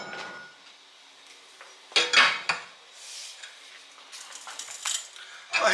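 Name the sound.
crowbar bending a bent metal yard cart hitch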